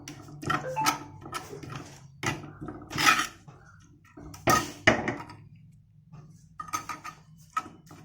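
A spoon stirs green chilli and shallots around a cooking pan in irregular scraping and clattering bursts, separated by quiet gaps.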